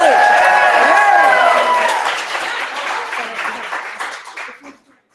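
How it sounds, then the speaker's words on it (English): At a maker educator convening, an audience gives a loud round of applause mixed with whoops and voices, the clapping dense at first and then thinning and fading out to silence. "Bigger round of applause"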